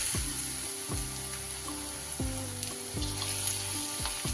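Chicken pieces for restaurant-style chili chicken sizzle steadily in hot oil, a close, continuous crackle broken by soft low thumps every second or so as pieces shift in the pan, with no voices.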